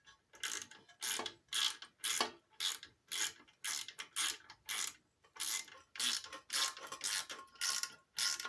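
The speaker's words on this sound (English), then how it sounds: "Ratchet." A ratchet wrench works a 7/16 carburetor mounting bolt, giving about a dozen quick bursts of rapid clicking in a steady back-and-forth rhythm, close and clear with no talking.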